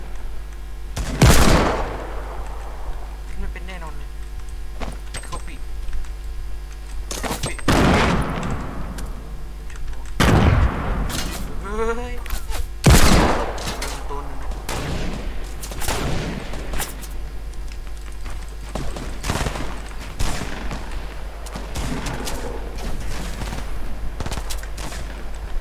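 Gunfire in the Fortnite video game: loud, widely spaced single shots and short bursts, some booming like shotgun blasts, over a steady low hum.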